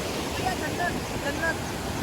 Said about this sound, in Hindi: यहाँ पे जो फ्लो है ना पानी का, बहुत तेज़ है